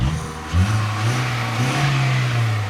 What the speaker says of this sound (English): because it is, like I said, it's revving.